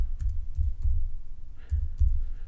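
Scattered keystrokes on a computer keyboard, a handful of light clicks spaced irregularly over a steady low hum, close by with no talking.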